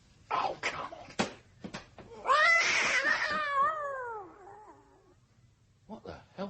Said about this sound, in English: What the hell was that? Saladin. That bloody cat.